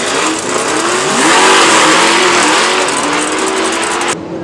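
Drag racing cars launch and accelerate hard down the strip at Helsinge, a loud rising engine roar with climbing harmonic pitch that holds for several seconds before cutting off abruptly.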